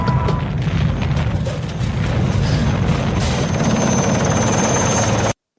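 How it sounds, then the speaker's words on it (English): Helicopter approaching from a distance in the film Rambo III, a steady dense broadband rotor and engine roar holding loud for about five seconds before cutting off abruptly. "the helicopter that he hears somewhere in the distance will come over that ridge"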